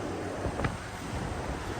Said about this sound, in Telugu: ఫ్యాన్స్ ఎంత పెద్దగా ఉన్నాయి చూసారా? గాలి చాలా గట్టిగానే కొడుతుంది నాకైతే